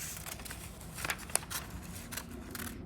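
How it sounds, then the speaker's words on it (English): Scissors snip through paper while cutting out a paper heart garland, a series of close, crisp short cuts with light paper rustling between them. "Now I'm going to grab my scissors. I'm going to cut it out."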